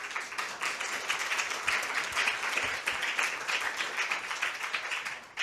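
An audience at a talk on automation applauds to welcome a speaker to the stage, producing dense, sustained clapping from many hands that stays loud and steady throughout, with no one speaking over it.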